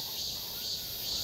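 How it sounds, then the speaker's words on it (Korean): Cicadas sing in a continuous high, hissing buzz that holds level throughout, with a faint voice underneath. "매미 울음소리를 내고 있고"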